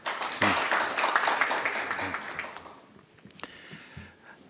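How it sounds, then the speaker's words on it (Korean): An audience at a Korean government council meeting on digital order applauds to welcome a ministry director. The dense, close clapping fades after a couple of seconds into scattered claps and room noise. "모두 박수로 맞아주시기 바랍니다."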